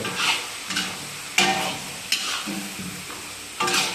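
Cashews fry in a pan with a loud, close sizzle, punctuated by a few brisk scraping strokes of a stirring spoon against the metal; no one speaks.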